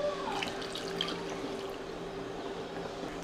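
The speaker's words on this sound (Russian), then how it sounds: "Доливайте горячую воду." Hot water is poured steadily into a pot of vegetables for a green lentil and mint purée soup, a continuous close splashing pour with no talking.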